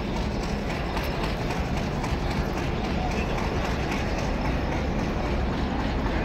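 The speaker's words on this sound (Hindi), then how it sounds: "ये हमारी जनाब ट्रेन आ रही है" Train approaching Rawalpindi railway station at night, a steady broad rumble of rolling wagons and track noise filling the whole stretch, fairly loud and continuous, with people talking in the background.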